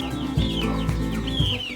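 Hens and roosters in a poultry coop cluck and murmur steadily at close range, with soft repeated calls and a faint background hum and no human voices.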